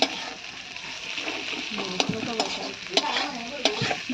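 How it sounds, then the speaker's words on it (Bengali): Tomatoes frying in a pan, a steady crackling sizzle with a few sharp clicks of a utensil stirring through it. "এই দেখো টমেটোটা হচ্ছে ভাজা"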